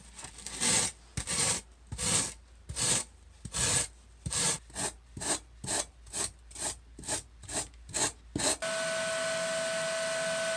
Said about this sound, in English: I can smooth over those facets using just this simple rasp tool